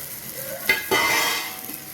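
Grated coconut dropped onto roasted onions in a hot pan, a brief scrape then a sudden swell of close, steady sizzling that holds through the rest.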